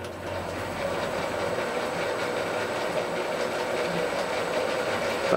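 A metal lathe runs in reverse after cutting a thread with a revolving tailstock die holder, giving a steady, moderately loud mechanical whir with a faint rhythmic rattle throughout, no voices.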